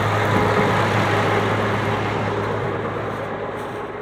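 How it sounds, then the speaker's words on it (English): A farm tractor's engine idles at close range in a steady, loud, even drone, tapering slightly in level toward the end, with no voices over it. "if I can get off the tractor."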